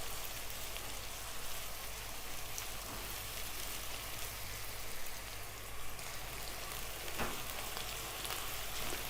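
Beef keema frying in a pan, a steady, dense sizzle like heavy rain that continues evenly throughout with a few faint scraping knocks of a spoon stirring.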